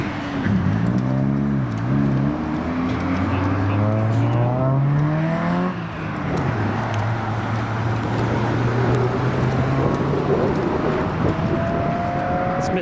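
A modified Lexus IS200 accelerates away from a car show, its engine revving up through the gears with rising tones, then settling into a steady drone as it pulls off, with wind noise throughout.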